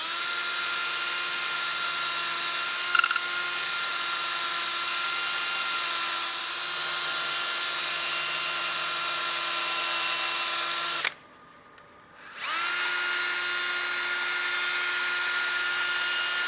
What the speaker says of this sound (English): I've got my drill low and I'm sanding on the bottom half of the pad.